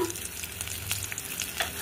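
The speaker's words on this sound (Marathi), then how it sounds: "बघा फोडणी चांगला आवाज यायला लागलाय फोडणीचा।" A tempering of chopped chilli, cumin, mustard seeds, garlic and asafoetida sizzles and crackles in hot oil for a kadhi, close and steady with scattered small pops, and no voices.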